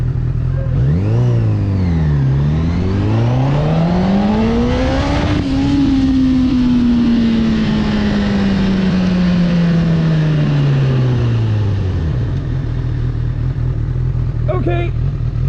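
A Honda CB1000R engine revs hard at full throttle, climbing and dipping before a long sustained high-rpm scream that falls away as the rider eases off, loud and close throughout.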